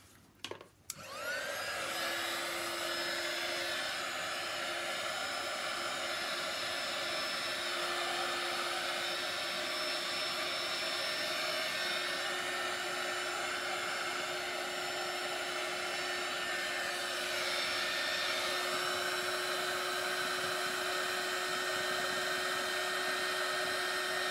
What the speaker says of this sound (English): now we're going to do the heat tool thing